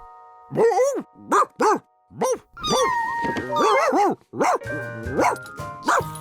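A cartoon dog barks and whimpers in a series of short, close yips and bow-wows with brief gaps, mixed with light background music.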